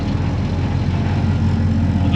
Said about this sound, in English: Definitely idling a little funny.